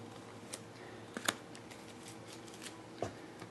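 Cards being shuffled by hand during a tabletop session of the Shadows of Brimstone board game, a short burst of quiet riffling and snapping heard alone and close.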